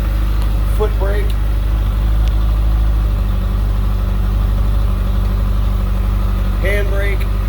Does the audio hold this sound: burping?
no